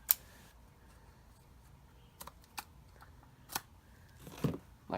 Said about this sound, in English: you can just take the scissors and cut that off